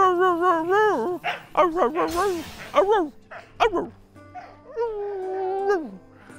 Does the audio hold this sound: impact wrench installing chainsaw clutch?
no